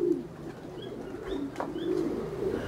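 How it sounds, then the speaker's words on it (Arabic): Soft pigeon coos repeat in a loose rhythm among a few faint chirps, heard close but at low level over a quiet background. "نوريكم بعد الحميمات فين هما الحمام"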